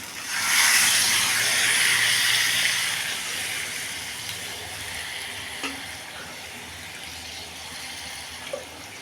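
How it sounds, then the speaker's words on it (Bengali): Loud hissing and sizzling burst up as hot water hits a pot of potato curry, then settle into a softer steady simmer with a few faint clinks. "এবার গরম জল দিয়ে দেবো"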